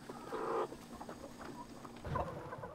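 A sick chicken on a mountain farm in Jirisan gives a few faint, hoarse clucks from inside a poultry shed, quiet and spaced apart against low background noise.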